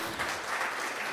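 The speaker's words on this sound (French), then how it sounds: "Merci messieurs, on peut les applaudir." Brief, faint burst of audience clapping at the opening session of an HR hackathon in Tours, a soft continuous patter heard from a distance.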